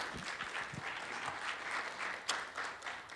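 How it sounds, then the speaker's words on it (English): An audience at a live conference session claps for a presenter in a short, moderately loud round of applause that holds steady with a few distinct claps near the end. "A big round of applause for Rashmi"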